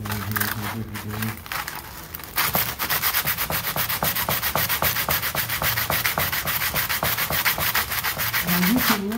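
Rhythmic back-and-forth strokes of hand sanding a wooden harmonica slider, a steady rasping scrape repeating quickly, with brief voices near the start and end.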